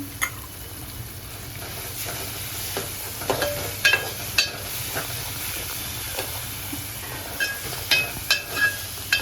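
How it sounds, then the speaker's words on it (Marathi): Ginger garlic paste sizzles in hot oil with cooked-down onion and tomato for a prawn curry, a loud, steady hiss and crackle with repeated scraping stirs of a spatula against the pan. "मी आलं लसूणची पेस्ट घालतोय"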